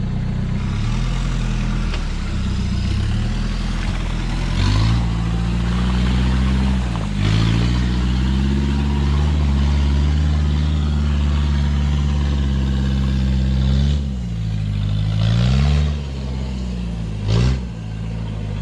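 A 1979 off-road truck on 35-inch tires climbs a hill, its engine droning loud and steady throughout, with the note rising and falling in a few swells as the throttle shifts.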